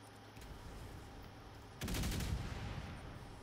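Shots from snipers in a video game hit as a loud close burst about halfway through, over a steady low game hum, with no talking.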